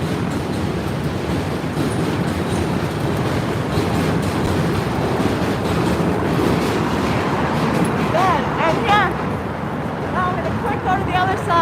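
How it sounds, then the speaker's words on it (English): A J train rumbles across the Williamsburg Bridge at night, a loud continuous rolling roar with rattling and faint wheel squeals, heard from the walkway while people talk nearby. "That's the train moving the bridge."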